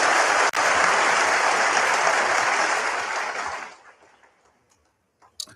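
A snooker crowd at the Shanghai Masters applauds a brilliant shot by Shaun Murphy in a dense, steady ovation that fades out after about four seconds, leaving near silence.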